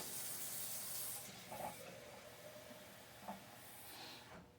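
Basil seedlings sprayed with a little cool water, a soft hissing mist that runs steadily at first and then returns in short bursts, close and quiet.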